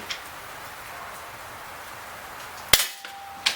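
Umarex Smith & Wesson M&P R8 CO2 BB revolver firing outdoors, two sharp, close shots near the end after a quiet stretch with faint background rustle.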